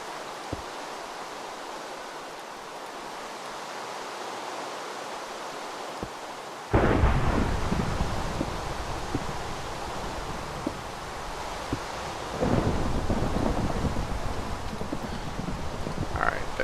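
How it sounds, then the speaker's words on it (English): Thunder in a Minecraft modpack game strikes close: a sudden loud crack rolling into a long rumble over steady rain-like noise, with a second, softer rumble swelling several seconds later. "Wow, that thunder hit pretty close."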